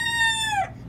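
A single chicken lets out a drawn-out, tonal call that bends downward and fades, heard close and clear for about a second.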